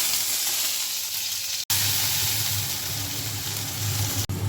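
Chopped onion, capsicum, tomato and green chili frying for Maggi, a loud dense hiss of oil that stays unbroken and close, with two very brief cuts and no talking.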